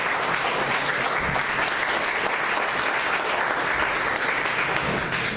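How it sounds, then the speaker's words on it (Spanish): A church congregation claps together in steady, dense applause that fills the space evenly from start to finish, with no voices rising above it. "Dale una ofrenda de palmas a Él."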